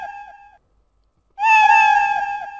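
A cat meow is played in the Scratch sound editor with an echo effect applied. Two loud, close, tonal meow-like calls sound alone, a short one and then a longer drawn-out one after a brief silence.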